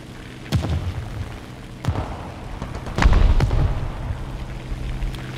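A large bomb dropped by an Hs 123 biplane in War Thunder ground battles explodes with a deep boom, following several sharper bursts and thuds in quick succession against steady engine and battle rumble.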